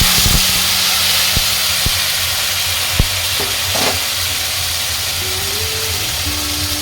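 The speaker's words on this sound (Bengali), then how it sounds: "এরই সঙ্গে আমি সম্পূর্ণ ঝোলটা ঢেলে দিলাম খুব ভালোভাবে ফুটতে দেব" Fish gravy poured into a hot tempering of fennel paste for a Bengali koi fish dish, producing a loud, continuous steamy hiss and sizzle with scattered sharp crackles and a brief rising whine.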